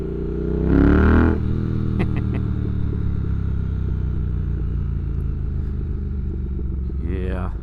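A 2022 Triumph Speed Twin motorcycle with a rebuilt engine cruises along, its steady engine drone humming throughout with a brief rise in revs near the start, while the rider talks over it.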